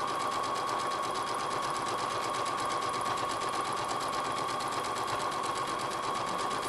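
A sewing machine stitches a rag quilt in one continuous run, its motor whirring at a steady, fast rhythm, close and clear with no pauses.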